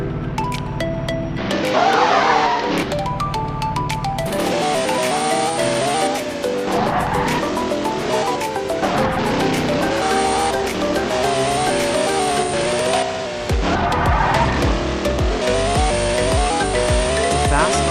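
A Formula 1 race car in the driving game Car Simulator 2, its loud engine revving continuously with tire squeal and skidding, plus game music-like tonal layers, throughout about eighteen seconds.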